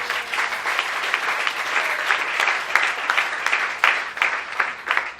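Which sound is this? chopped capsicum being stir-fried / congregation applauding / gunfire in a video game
congregation applauding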